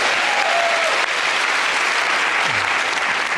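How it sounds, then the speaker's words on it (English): Steady, full applause from a large TV comedy panel show studio audience, continuous and loud throughout, with no pauses. "Give me a round of applause."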